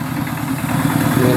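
Motorcycle engine idling in a rural village, a steady low rumbling drone with slight fluctuations, close and fairly loud, continuous for the whole stretch.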